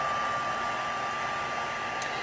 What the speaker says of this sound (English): When you're embossing, you really have to use a heat tool.